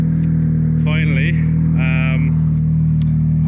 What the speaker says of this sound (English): the car is running finally